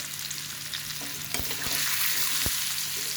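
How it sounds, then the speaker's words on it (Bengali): Onion, garlic and ginger fry in a hot pan with a loud, dense, continuous sizzle, punctuated by a few brief knocks of a utensil against the pan. "পেঁয়াজ রসুন আদা সব দিয়ে দিচ্ছি"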